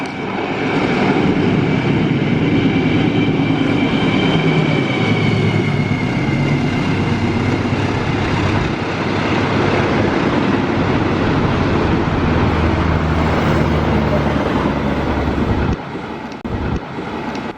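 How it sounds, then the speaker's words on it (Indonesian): An Argo Merbabu passenger train hauled by a former Sumatra locomotive passes close by with a loud, steady rumble and rushing roar lasting over fifteen seconds, easing off sharply near the end. "Barusan kereta api Argo Merbabu ditarik oleh lokomotif bekas Sumatera dengan ciri khas warna liverinya agak berbeda"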